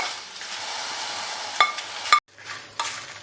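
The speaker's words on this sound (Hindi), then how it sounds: "इसको तकरीबन हम एक से 2 मिनट भूनेंगे।" Tikka masala spices are dry-roasted in a pan, giving a soft dry rustling sizzle as they are stirred, with a few sharp clinks of a spoon against the pan, close and alone.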